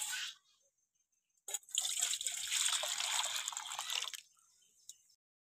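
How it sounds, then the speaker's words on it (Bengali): Lukewarm water trickles in a thin, close stream into rice flour for pitha, pouring for a few seconds between quiet pauses, with a small drip at the end. "এবার কুসুম কুসুম গরম জল নিয়েছি, এবার অল্প অল্প করে জল দিয়ে এটা মাখিয়ে নেব"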